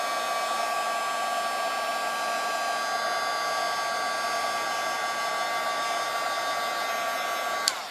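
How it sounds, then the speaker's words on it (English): A heat tool blasts steadily to set embossing powder on stamped flowers for a card, its airy whine holding constant and close for the whole stretch, with no talking, before cutting off at the very end. "You can't really put a mask over embossing powder that hasn't been set with a heat tool"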